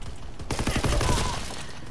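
A rapid burst of gunfire in a WW2 shooter game, aimed at an enemy's dead body, erupts abruptly as a loud, close volley of several shots over game ambience.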